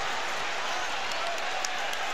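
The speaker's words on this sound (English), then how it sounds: "Now the crowd rallying, trying to help Kentucky at the defensive end" A basketball arena crowd roars in support of Kentucky during a game against Tennessee, a steady broad wash of cheering and noise with a commentator talking over it.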